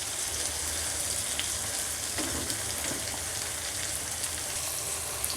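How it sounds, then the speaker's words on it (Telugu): Green chili and ginger-garlic paste frying with onions in a pan for Rayalaseema-style uggani bajji, a steady close sizzle with faint stirring scrapes and no voices. "ఉల్లిపాయలు కొంచెం వేగిన తర్వాత ఇందులోకి ముందుగా మనం గ్రైండ్ చేసి పెట్టుకున్న పచ్చిమిరపకాయ, అల్లం వెల్లుల్లి పేస్ట్ ఇందులోకి యాడ్ చేసుకోవాలి"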